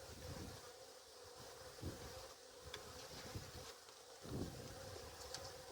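A steady insect buzzing from many honey bees around an opened hive fills the scene, with soft wind and a few low thumps and rustles in the background.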